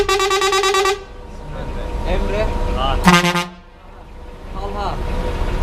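A deep, loud ship horn blasts twice, a long tone at the start and another midway, with a voice talking in between and afterward.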